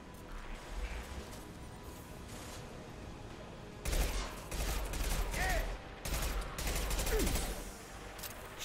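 In Mass Effect 2, an automatic gun fires in several loud, sustained bursts separated by short gaps, following a few seconds of quieter game ambience.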